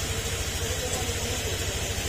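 A rebuilt Honda Click 125 scooter engine idles steadily at close range, a continuous low rumble with an even pulsing rhythm and no talk over it.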